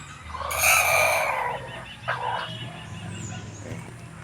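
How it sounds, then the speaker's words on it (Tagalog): Many chickens at their house beside a river cluck and call. One loud, near squawk is followed by softer scattered clucks over an outdoor background. "It's a lot of chickens."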